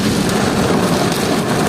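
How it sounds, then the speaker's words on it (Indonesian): A heavy rainstorm hammers down as dense, broadband hiss and drumming, loud and unbroken across the short stretch with no voices. "hujannya deras banget guys, deras sekali, badai"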